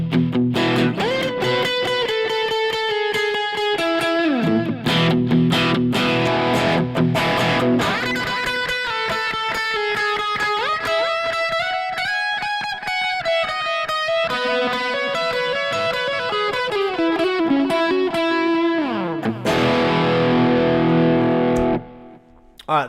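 Overdriven electric guitar played with a distorted drive tone through an effects unit, sustained chords and bending notes ringing loud and continuous, ending abruptly.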